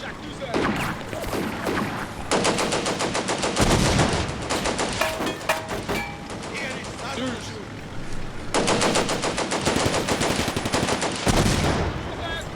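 Rapid bursts of gunfire from a Combat Mission Barbarossa to Berlin World War II battle, with repeated sharp volleys and sustained automatic fire, loud and dense, while someone talks in the background.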